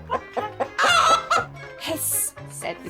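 A human voice imitates a hen, making a run of loud clucking and bawking sounds in short bursts, close up and alone.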